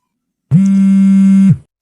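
A phone rings with a single steady electronic buzz that starts abruptly, holds for about a second and cuts off, loud and close, with no voices.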